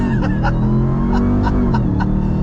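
A 2021 Ram TRX truck accelerating hard from a stop under launch control, a loud, close engine roar climbing in pitch with quick gear-shift breaks, mixed with chuckling and laughter inside the cab.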